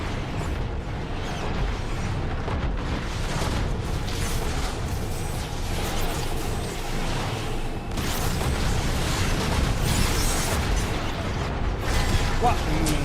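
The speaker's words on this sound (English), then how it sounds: "Watch out for those rockets." Rockets detonating in a Transformers War for Cybertron battle, with repeated bursts and booms over dense mechanical clatter and combat noise throughout.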